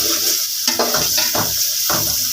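Garlic paste sizzles in a pan with browned onions, a steady broadband fry under repeated scraping stirs, each stir a short burst, all close and fairly loud with no talking.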